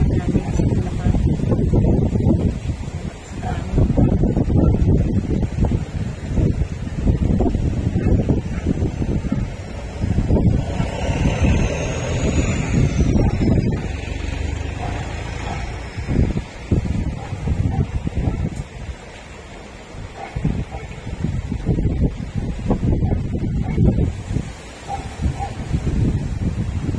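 Strong, continuous typhoon wind in Bulacan, Philippines, under Signal No. 5, roars and gusts for the whole stretch, rising and falling with a rough, buffeting rush close to the microphone, shifting direction.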